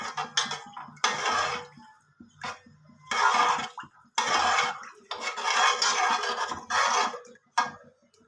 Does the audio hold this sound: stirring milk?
yes